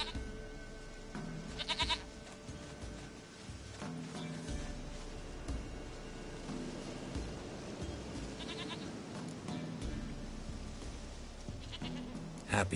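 Goat bleats from The Witcher video game, several short wavering cries in bursts near the start and again midway, over steady game ambience and background noise.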